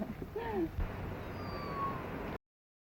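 A small family cat meows near the listener, a short rising and falling cry followed by a second, softer mew, over the faint hiss and hum of an old 1935 Western film soundtrack.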